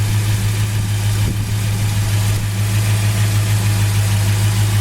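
A 1968 Plymouth Satellite convertible with a 383 V8 and four-speed idles steadily up close, a loud, even low rumble that holds without a break and with no talking.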